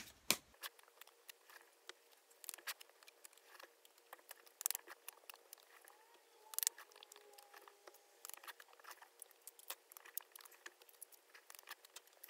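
Tarot cards being shuffled, soft papery riffles, taps and light slaps arriving in irregular bursts, close and quiet with no talk.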